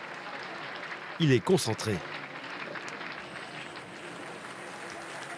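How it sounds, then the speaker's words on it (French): A theatre audience claps steadily as a dense, even wash of applause while waiting for an acrobatics show to begin; a voice speaks briefly over it near the start. "On entend les applaudissements du public qui s'impatientent."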